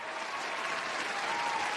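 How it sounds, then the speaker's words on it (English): A crowd applauds steadily, a dense even wash of clapping throughout the short moment, moderately distant with no pauses. "give him some applause"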